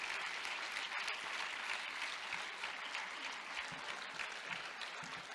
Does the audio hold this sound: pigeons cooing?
no